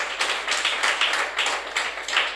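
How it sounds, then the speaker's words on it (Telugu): A small audience claps in quick, uneven bursts, a close, dry patter of hands with no talk over it. "చప్పట్లు కొట్టడారా."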